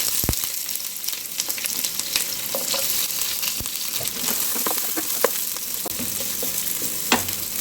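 Chopped onions sizzle in hot oil in a pan for tomato rice, a steady dense frying hiss with occasional sharp pops and stirring scrapes, close and continuous with no voices.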